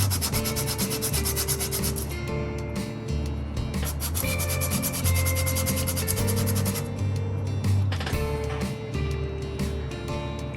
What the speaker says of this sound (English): So what I've been doing was we sand it down.